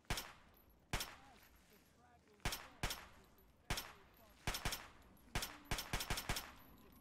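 Repeated gunshots from a Fallout 3 firefight, sharp loud cracks fired singly and in quick bursts with brief pauses between, growing denser toward the end.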